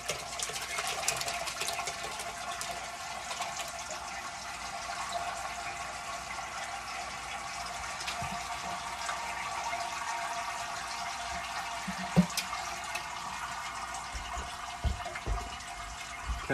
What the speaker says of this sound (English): so I'm just going to pour these curds right in here.